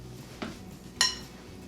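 Sauerkraut cabbage mixed with salt in a bowl gives two brief clinks of utensil against the bowl, the second brighter and ringing, in a quiet room.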